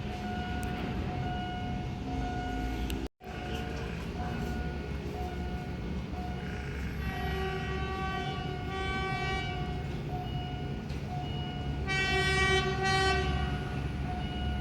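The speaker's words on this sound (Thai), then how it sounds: "ขบวนธรรมดาที่ 372" Thai suburban ordinary train 372 arrives at a station, its sustained diesel rumble and wheel noise loud and near. Its horn sounds in drawn-out tones during the later part, with faint voices in the background.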